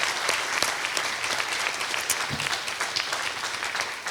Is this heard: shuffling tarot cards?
no